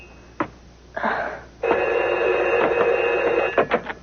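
A landline telephone rings with an electronic trill, short bursts followed by a long sustained ring, close and fairly loud with no talking.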